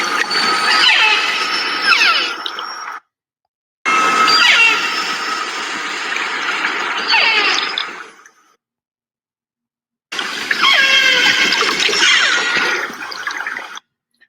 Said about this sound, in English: So what you're hearing is the mother making a call and then the calf repeating it